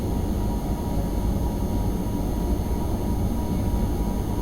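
Simulated train in Train Sim World 4 running at about 145 km/h, a steady loud rumble of wheels and rolling stock with a constant high whine, continuous and unbroken, no talk.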